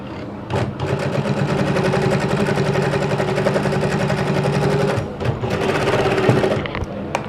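A sewing machine runs loud and close while stitching a sleeve placket, whirring steadily with two brief stops before starting again.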